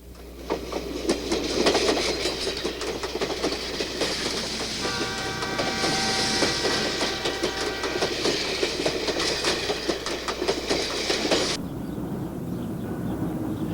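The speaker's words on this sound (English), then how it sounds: "they can board the old steam haul train, which has been in operation since 1898" An old steam-hauled train crossing Alaska's White Pass rumbles along steadily with rhythmic clatter from the rails and a brief sustained horn-like tone in the middle, fading to quieter rumble at the end.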